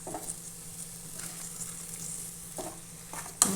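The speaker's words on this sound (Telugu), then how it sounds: "ఇప్పుడు ములక్కాడలు కూడా ఆయిల్లో కొంచెము వేపుకుందాం ఫ్రెండ్స్." Drumstick pieces frying in oil in a pan, giving a steady close sizzle broken by a few scraping stirs and a sharper clink near the end, with no voices.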